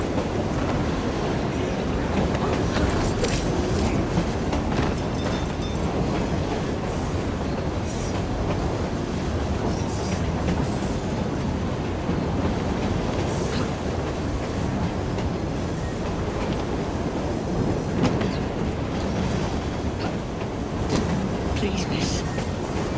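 A steam train in Assassin's Creed Syndicate runs steadily on the rails, a dense rumble and rattle of wagons with intermittent clanks and metallic squeals, and voices come and go over it.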